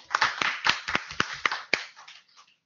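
Sparse applause from a small group at an IETF working group meeting, a few distinct claps in loose rhythm that thin out and fade after a couple of seconds.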